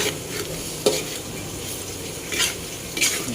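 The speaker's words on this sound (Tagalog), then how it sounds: "halo lang ng halo guys, para hindi siya dumikit sa kawali" A spoon stirs and scrapes bopis around a frying pan to keep it from sticking. Several distinct scrapes cut through a continuous low sizzle, close by, with no talking.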